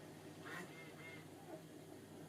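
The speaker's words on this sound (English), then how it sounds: "And now the computer's making a duck sound." A computer emits a short duck-like quacking alert, two faint quacks over a steady background hum in a room where a plastic scale model tank kit is being built.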